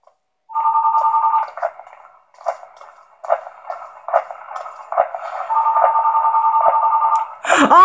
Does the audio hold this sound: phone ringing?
yes